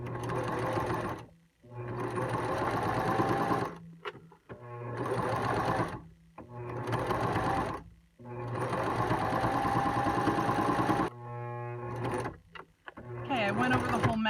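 A sewing machine stitching a fabric face mask runs in several loud, steady whirring bursts separated by short pauses, close up, with a voice talking between and over the runs.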